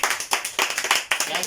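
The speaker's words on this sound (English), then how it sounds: "you better applaud my friend because she's birthday next week" Quick, rhythmic hand clapping for a friend's upcoming birthday, a short burst of several claps close by, with talking over it.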